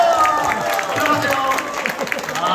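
Applause from a church congregation at a Bible recitation contest, a dense steady patter of clapping with crowd murmur and talk mixed through it.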